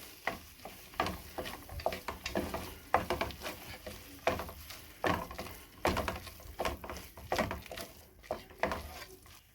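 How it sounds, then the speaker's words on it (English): Crushed cashews being stirred into thick beetroot halwa in a pan, with a steady series of close scraping, sticky stirring strokes over a soft sizzle, each stroke a short swell in an irregular rhythm. "And again, stir this in really well."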